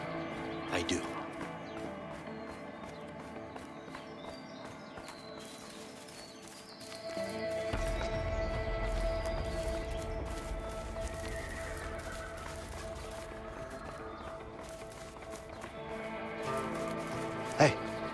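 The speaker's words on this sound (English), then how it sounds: "How do you know they got horses in there? It's a horse barn, Leo." Horses stand inside a horse barn in the A Way Out video game. Hooves clip-clop and the animals whinny and snort close by, and a steady rain-like ambience swells partway through. Characters talk quietly over the sounds.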